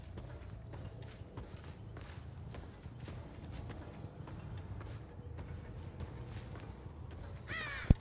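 Crow cawing inside the Dead by Daylight video game, repeated short caws over faint footsteps and game ambience, quiet and somewhat distant.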